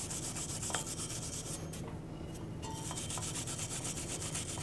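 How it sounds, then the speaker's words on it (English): Continuous harsh scratchy scrubbing at close range, a wire brush rasping rust off the rear wheel hub of a Honda CR-V in steady strokes with a brief pause midway. "We'll take it with a wire brush."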